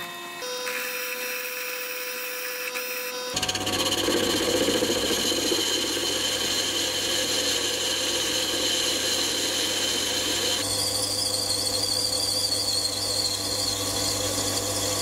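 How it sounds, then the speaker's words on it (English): A metal lathe machines a steel ring down to about 68 mm for a slip fit on a milling machine spindle. A different steady machine tone gives way after about three seconds to a louder, continuous cutting drone with steady whine. "So I put it in the lathe and I started to machine it."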